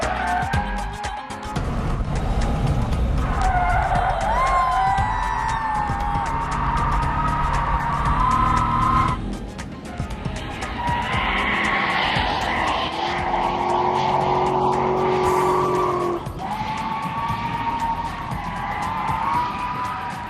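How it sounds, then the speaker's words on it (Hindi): Tires screech on a car driven hard during a thrill ride in Nevada, with loud sustained engine roar and squealing tones recurring across the clip, heard from close by inside or near the car, with no talking. "इसकी गाड़ी की स्क्रीचेस मुझे अंदर सुनाई दे रही थी।"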